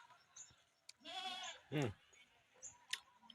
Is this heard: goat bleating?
yes